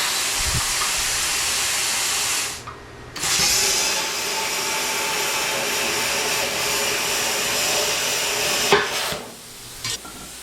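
A grinder works on a leftover cap on the rear end of a 1979 Jeep DJ5, making a loud, steady broadband hiss that drops out briefly twice, near three seconds and again near the end, before resuming. No one speaks.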